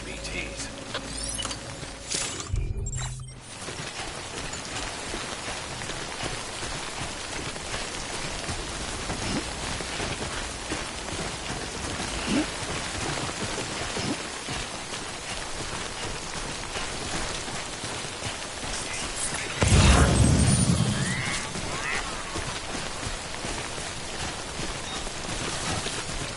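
Steady rain falls in a video game, a dense continuous hiss of drops on surfaces with faint mechanical clicks and a brief louder burst near the end.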